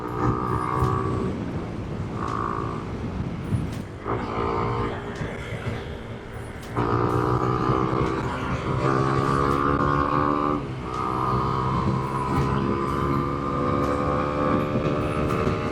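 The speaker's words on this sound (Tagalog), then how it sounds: "Malakas yung motor." A remapped Honda Winner X motorcycle engine revs up close. Its strong harmonic drone holds steady, then shifts in pitch and level several times as the throttle changes.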